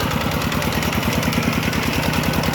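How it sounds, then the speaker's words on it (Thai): A walk-behind farm tractor's engine runs steadily at close range, a loud, even idling chug with a fast regular pulse and no voices. "ก็เอา เจ้ารถไถนาเดินตามครับ"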